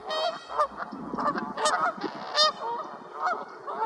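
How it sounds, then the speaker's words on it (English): Several geese honk loudly and repeatedly, their harsh calls overlapping in bursts close by. "Others sometimes fly in when they see geese down below"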